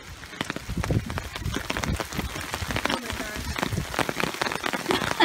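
Heavy rain pours down outdoors beside a stream where a small dam is being built, a dense steady patter on surfaces that continues throughout, loud and close, with scattered handling noises and thumps.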